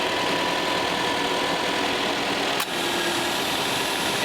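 The engine of a 2009 Subaru Impreza WRX runs and warms up with a steady, loud, close idle drone and one brief click partway through.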